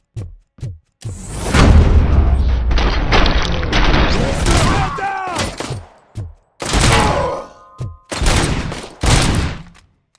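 Loud close bursts of gunfire and heavy booms in the Robocop video game, repeated volleys separated by short silent gaps, with game voices woven between the shots.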